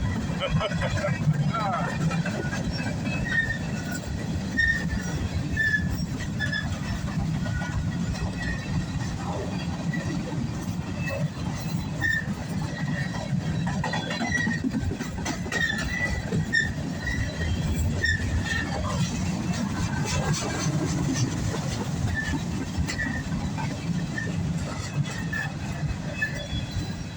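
A northbound CSX freight train rolls steadily past at close range, a continuous heavy rumble with repeated squealing wheels and clanking cars, while people talk in the background.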